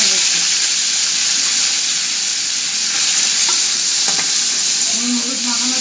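Prawns frying in a pan for a Bengali prawn curry with pointed gourd and potato, a steady close sizzle throughout with occasional stirring clinks and scrapes.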